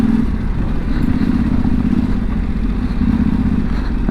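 A Yamaha Tenere 700 motorcycle ridden through wet mud gives a loud, steady, low engine drone with rough clattering texture that continues without a break.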